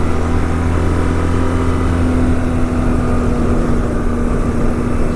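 Engine of a 2011 BMW R1200GSA 1200cc motorcycle pulling steadily uphill on knobby tires, a loud, continuous drone with a constant low hum and wind rush throughout, no voices.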